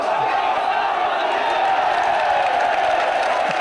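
Bradford rugby league fans cheer at a 1996 match against Halifax, a steady loud crowd roar with scattered shouts and whistles throughout, without a break.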